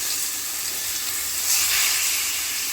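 A flipped piece of beef sizzles in a hot pan, a steady bright hiss that swells briefly midway, close and continuous with no talking.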